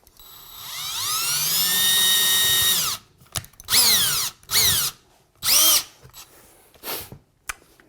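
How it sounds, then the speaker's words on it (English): A power drill pre-drills into a wall stud for a rustic DIY home remodel: one long steady whine rising to full speed and winding down, then several short bursts of drilling, close and loud with no talk. "We're going to just pre-drill with this bit."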